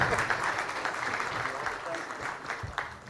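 Audience applause fills a conference hall after a panel discussion at a media industry event, steady and moderately loud with some voices mixed in underneath.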